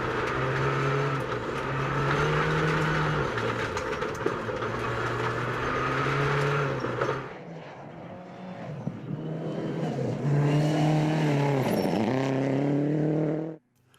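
A rally car runs flat out on a stage at the 2016 New Zealand Rally Championship, Rally Canterbury. The engine roars loud and close, pitch climbing and dropping through gear changes, with a brief dip mid-run before it surges again and cuts off.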